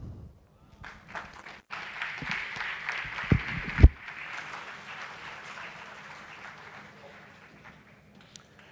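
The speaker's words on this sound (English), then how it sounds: "Let's give him a round of applause, please." An audience at a TVET college launch event breaks into applause, scattered claps building into a steady patter with a few sharp louder claps, then thinning and fading away.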